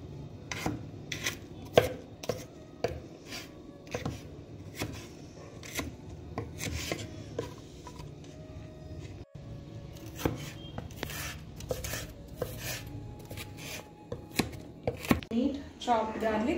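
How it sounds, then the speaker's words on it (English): Knife chopping two to three garlic cloves finely on a board, a steady run of sharp close taps with short pauses, while people talk in the background. "We need to take some 2-3 cloves of garlic and chop it finely."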